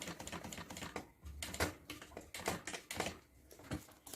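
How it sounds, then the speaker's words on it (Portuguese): A sewing machine stitches fabric with a quick, steady clatter of needle strokes, faint and close, briefly pausing midway before continuing. "E vou descer costurando."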